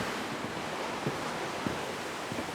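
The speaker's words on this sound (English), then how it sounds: "the water as it pools at the bottom of a little mini waterfall" Water spilling over a small mini waterfall and pooling at its base in Bukhansan Park's Gugi area, a steady rushing hiss with faint splashes, continuous and close, no voices.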